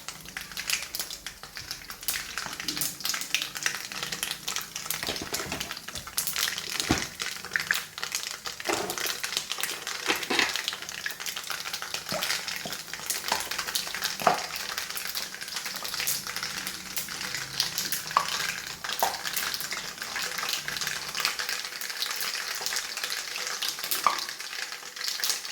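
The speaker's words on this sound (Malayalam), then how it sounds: "കടുക് പൊട്ടുന്നു." Mustard seeds pop and splutter in hot oil in a pan, a dense continuous crackle of sharp bursts that goes on steadily throughout, close and fairly loud.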